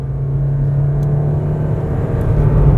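A 2017 Toyota Corolla with a CVT accelerates on a city road, heard from inside as a steady low engine drone with a sustained hum that rises only slightly, fairly loud and free of talk.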